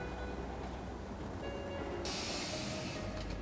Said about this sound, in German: U-Bahn kommt rein.